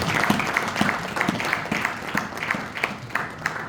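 Applause from a gala evening audience during a trophy award ceremony: a moderate, steady patter of clapping with some regularly spaced stronger claps standing out, heard from the middle of the room.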